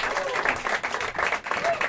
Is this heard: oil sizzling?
no